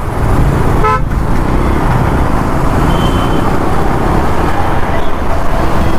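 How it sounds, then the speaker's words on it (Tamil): Steady roar of busy road traffic in Chennai, India, a brief honk of a car horn near the start rising over the engine noise. "ஆனால் சண்டேயாக இருந்தாலும் இன்றைக்கி சரியான டிராஃபிக்காக தான் இருக்குது."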